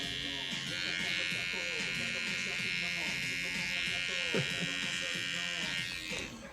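A buzzing electric trimmer works close up, cleaning up a beard line in a barbershop fade cut, with a steady high whine that runs throughout. Someone talks over it.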